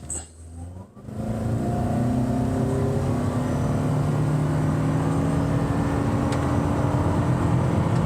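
A 2023 Toyota Camry Hybrid XLE in sport mode launches hard from a brake-torque start, its engine note climbing steadily and staying loud and continuous from inside the cabin.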